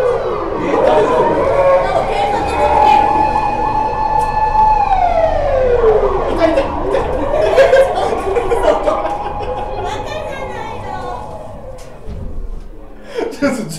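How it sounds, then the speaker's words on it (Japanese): A two-tone ambulance siren wails loudly and close in a Japanese street, rising and falling steadily while people chatter and laugh nearby over it. "ちょっと救急車とかがすごい、"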